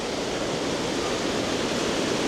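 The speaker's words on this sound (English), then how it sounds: "Beautiful little waterfalls." Small waterfalls in Cahir, Ireland rush in a steady, loud, unbroken wash of falling water, with no voices.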